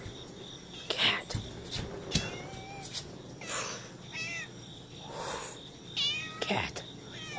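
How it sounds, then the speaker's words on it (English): A cat meows several times over about seven seconds, the calls fairly close and clear, with crickets chirping steadily in the background. "Cat."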